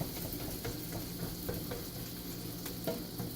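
Okonomiyaki batter frying in a pan at high heat, a steady dense sizzle with faint crackles and scrapes throughout, no voices.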